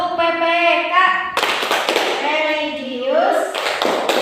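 A class of children performing the Tepuk PPK clapping chant: rhythmic group claps between chanted phrases, the children's voices loud and close, with sharp clap bursts partway through.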